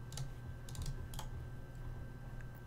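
Quick computer mouse clicks for right-click copy and paste, a few light sharp ticks in small clusters over a faint steady hum, close and quiet with no talk.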